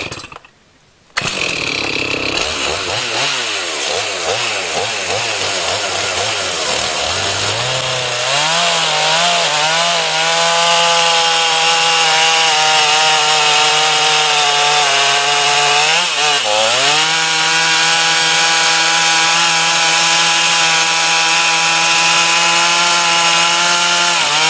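STIHL MS391 chainsaw with a 25-inch bar milling wood, starting up and revving, then settling into a long, loud, steady cutting drone with a brief dip in pitch partway through as it bogs under load.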